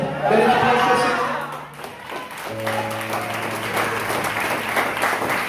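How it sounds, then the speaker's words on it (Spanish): Church congregation clapping for the Lord during a Spanish-language sermon, a burst of applause at the start that fades, then voices and sustained tones continue underneath. "Denle un aplauso al Señor."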